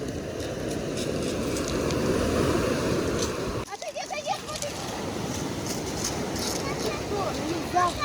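Black Sea surf washes onto a beach in a continuous rolling rush with wind noise, a brief dip midway, and faint sounds over the waves.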